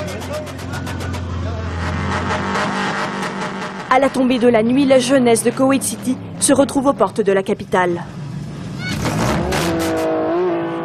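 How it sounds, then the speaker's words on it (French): Cars drift at dusk on open ground at the edge of Kuwait City, engines revving hard and wailing through rising and falling pitches with sharp tire squeals, loud and close, while a narrator talks over them. "Le drifting, littéralement, le dérapage, est le sport national."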